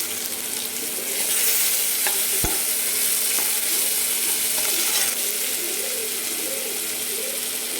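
Tomato masala with turmeric frying in a pan while being stirred, a constant sizzle broken by scraping spoon strokes and a few sharp clicks against the pan.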